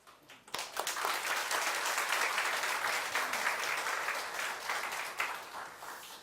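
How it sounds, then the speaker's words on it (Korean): A Korean church congregation applauds to welcome a pastor to the pulpit, a broad continuous roar of many hands clapping that swells after a sharp start, holds steady for several seconds, then tapers off. "이 시간 나오셔서 말씀 주실 때 박수로 환영하고 말씀을 받으십시다"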